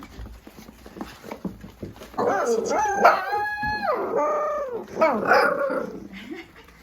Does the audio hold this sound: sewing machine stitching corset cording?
no